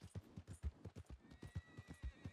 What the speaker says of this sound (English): Whistle for your horse when you ride to Javier's mission at the saloon